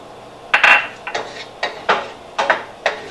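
A utensil stirring shrimp fra diavolo sauce with basil and oregano in butter and olive oil, seven or so distinct scraping knocks against the pan at a loose, regular pace, close and fairly loud with quiet gaps between.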